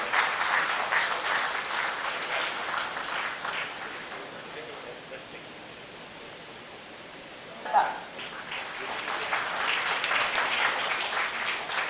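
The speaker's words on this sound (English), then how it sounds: "A huge round of applause, ladies and gentlemen, for Dr. David C." A conference audience at an international dental specialties conference applauds with steady, dense clapping that thins out briefly in the middle, then swells again. A short voice is heard near the quiet stretch.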